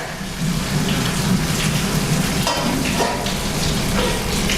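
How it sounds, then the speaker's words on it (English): Cooked linguini water poured out through a strainer outdoors by a tree, a steady rushing splash with sizzling, rain-like patter running the whole time at close range, no talk. "I'm just going to bring it over to the tree over here and drain it real quick"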